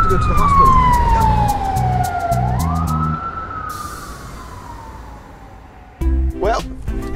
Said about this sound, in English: They got their lights, their sirens.